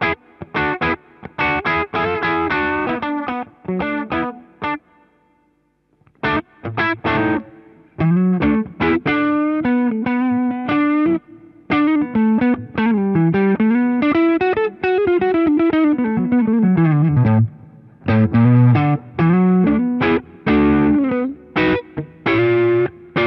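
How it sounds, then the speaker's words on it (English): An electric guitar runs through a Rowin Dumbler overdrive pedal with its volume knob backed off, playing a long phrase of driven single notes and bends with short pauses, no voices. "See how it reacts to the volume knob on the guitar."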